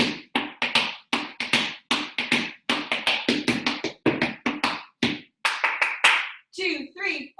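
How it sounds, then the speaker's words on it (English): Sharp tap shoes striking the floor in a steady quarter-note pattern of heel taps during a live tap dance class, crisp close clicks grouped in short bursts, with an instructor's counting voice running over them. "Repeat the heels in a whole quarter note"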